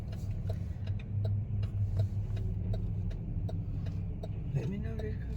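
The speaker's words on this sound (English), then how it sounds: "You got a lot of traffic got to pass by too." Road traffic passing by on a town street in the American South, a steady low rumble of vehicles moving past close by, with people talking over it.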